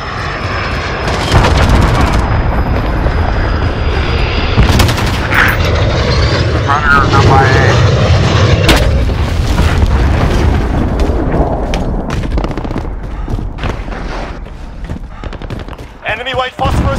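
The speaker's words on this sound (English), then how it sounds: "Enemy cruise missile" Loud, continuous roar of an enemy cruise missile strike in Call of Duty: Modern Warfare, with dense explosive rumble, bursts of gunfire and jet-like whoosh, voices talking over the din throughout.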